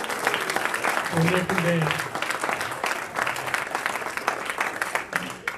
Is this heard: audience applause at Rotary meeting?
yes